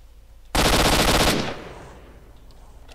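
A rapid burst of automatic gunfire in S.T.A.L.K.E.R.: Shadow of Chernobyl, loud and close, lasting about a second before trailing off into a fading echo.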